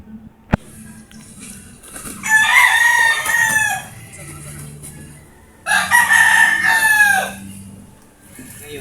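A rooster crows loudly and close by, twice in a row, after a sharp click at the start.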